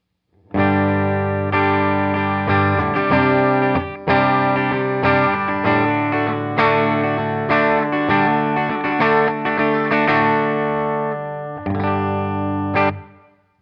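Distorted electric guitar chords from an IYV Les Paul Jr ring out with a wash of reverb, several strummed phrases with short pauses, each decaying into a lingering tail.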